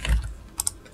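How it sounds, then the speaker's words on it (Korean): Someone types on a computer keyboard while entering a table title in an Excel spreadsheet. A soft low thump is followed by two quick, faint, close key clicks. "자, 일단 타이핑부터 해줄게요."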